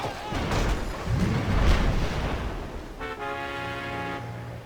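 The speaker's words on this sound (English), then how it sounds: "Go for it, tanks. Run them over." Tanks assault Berlin in the strategy video game Civilization Revolution, with rumbling booms and artillery-like blasts for several seconds, followed by a tonal game jingle near the end.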